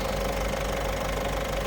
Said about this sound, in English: Just switch on the compressor and we get that up to 130 psi, 9 bar ish